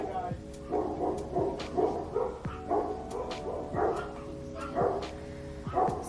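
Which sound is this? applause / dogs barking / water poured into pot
dogs barking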